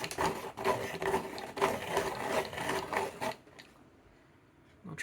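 A Dahle 166 crank pencil sharpener grinds a pencil with a rapid, rhythmic ratcheting and gear-whirring clatter, close and busy for about three seconds, then stops, leaving quiet room tone and a last small knock.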